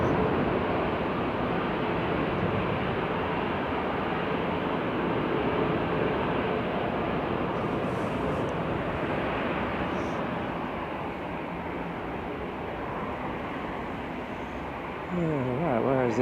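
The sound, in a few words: airplane taking off at Manchester Airport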